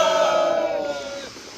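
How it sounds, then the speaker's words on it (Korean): A crowd at an outdoor political rally and emergency press conference in front of Cheong Wa Dae lets out one loud, sustained collective shout that fades after about a second. "격한 힘찬 함성 한번 부탁드리겠습니다."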